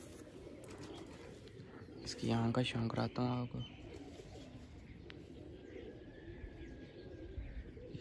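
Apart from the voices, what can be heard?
pigeon cooing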